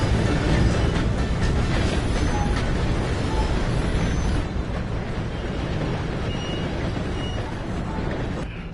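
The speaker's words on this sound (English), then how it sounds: "Gotta beat that train, Morgan!" A steam train in Red Dead Redemption 2 roars past at close range, a dense, loud, steady rumble with rushing noise that eases slightly toward the end.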